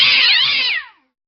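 A single drawn-out, high, wavering meow from a cat called Tiddles, close and loud, fading out after about a second.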